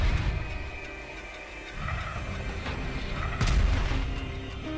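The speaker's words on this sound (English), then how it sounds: "Roger, firing rockets." Spaceship rockets fire in the mobile shooter game Xenoraid, heard as deep booming blasts and rumbles over a continuous game soundtrack, with a stronger burst near the end.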